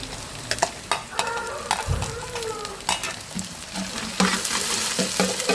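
Sliced green chilies and garlic fry in hot oil, giving a loud continuous sizzle. Intermittent spoon clanks and scrapes against the pan break through as the mixture is stirred.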